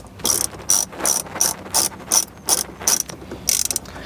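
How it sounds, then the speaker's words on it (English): A hand ratchet loosening 10mm bolts that hold the factory radio in a 2015-2017 Toyota Sienna, rapid clicking bursts of pawl chatter repeated in short strokes, close and crisp, with no voices. "we're going to remove 1, 2, 3, 4 10mm bolts, holding the factory radio in place."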